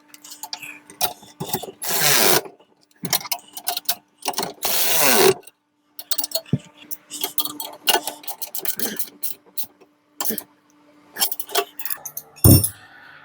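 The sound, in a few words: tightening bolts on VW Beetle bucket seat mount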